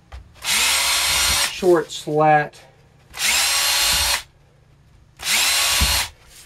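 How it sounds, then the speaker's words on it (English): A power drill pre-drills holes through short one-foot wooden slats for a chromatrope fireworks wheel, three loud sustained whirring bursts separated by pauses, with a brief spoken phrase between the first and second bursts. "so I'm going to pre-drill the holes through the"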